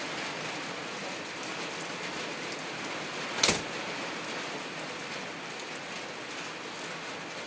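Steady rain patters on a surface throughout a thunderstorm, with one sharp, loud thunder crack bursting out midway before the downpour carries on.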